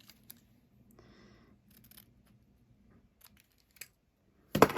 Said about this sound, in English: Get my ribbon scissors so I'd have some nice cuts on here.